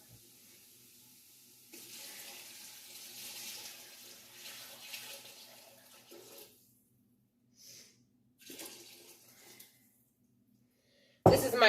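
Homemade chicken broth and water poured into a soup pot for chicken wild rice soup, a soft splashing stream in a few separate bursts with quiet gaps between, ending in a sudden loud clatter.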